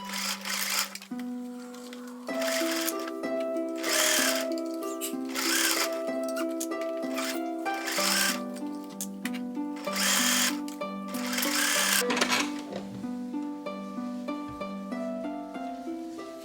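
A sewing machine stitches a cuff around the opening of a dress sleeve in repeated bursts of whirring, with short pauses between runs as the fabric is turned.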